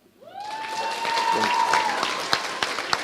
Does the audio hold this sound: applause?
yes